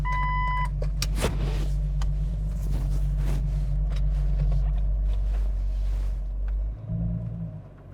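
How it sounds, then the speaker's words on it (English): A Jeep XJ fitted with a new clutch system rolls along on a test drive with a constant low engine drone. Brief warning chimes sound at the start, and the revs dip briefly near the end. "let's take it for a test drive"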